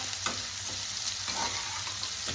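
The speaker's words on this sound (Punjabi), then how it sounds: "ਇਹਨੂੰ ਆਪਾਂ ਬਹੁਤ ਜ਼ਿਆਦਾ ਨਹੀਂ ਭੁੰਨਣਾ ਸਿਰਫ ਆਪਾਂ ਇਹਨੂੰ 2 ਮਿੰਟ ਲਈ ਭੁੰਨਣਾ" A spice tempering for pasta roasts in a hot pan, giving a continuous close sizzle with brief stirring scrapes every half second or so.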